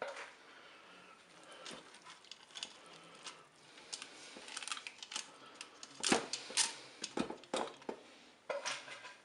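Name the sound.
breaking dry spaghetti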